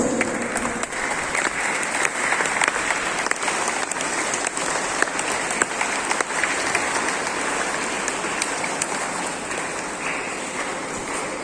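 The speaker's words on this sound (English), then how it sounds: "welcome our manager with a loud applause." A school investiture ceremony audience gives a loud welcoming round of applause for the manager, a nun: steady, dense clapping from many hands that carries on for over ten seconds without a break.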